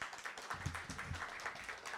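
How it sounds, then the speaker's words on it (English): An audience claps for a poet at an Indigenous poetics reading, soft and fairly sparse, with individual claps audible in a brief burst. "Can we please give another round of applause for Lou?"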